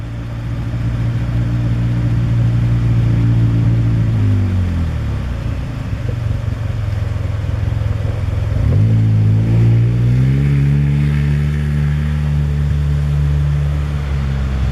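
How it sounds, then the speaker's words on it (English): A car driving along forest roads at Holly Road in Winona State Forest, a loud, close engine drone whose pitch sinks and climbs again twice as it changes speed, with no talk. "Just driving around having fun."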